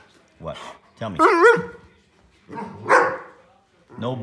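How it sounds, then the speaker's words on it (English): A Pudelpointer dog lets out several short barks and vocal yips in irregular bursts, close and fairly loud, with quiet pauses between. "No barking."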